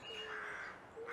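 Crows cawing on a fence beside a straw scarecrow, a short burst of harsh, raspy calls close by with no talking.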